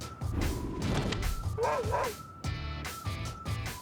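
A three-year-old Labrador gives several short yips and barks among thumps and scuffling, with whimper-like tones mixed in over a busy, close background.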